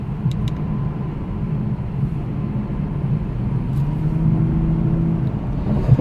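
A 2019 Lexus LC500h hybrid sports car engine idles and revs with a deep, throaty rumble that swells slightly toward the end, close and steady.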